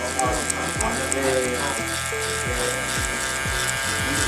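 Electric hair clippers fitted with a 1.5 guard buzz close up while cutting hair for a taper, a steady motor hum with repeated short strokes through the hair, as someone talks over it.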